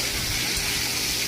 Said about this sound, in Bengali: তারপরে দেখো এখানে পটল ভাজা করছি